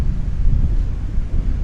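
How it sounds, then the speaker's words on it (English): Strong north wind of about 25 mph howls across a Gulf beach at Delnor-Wiggins in North Naples, Florida, a steady loud low roar buffeting the microphone throughout with no break. "That wind is howling around 25 miles an hour coming out of the north."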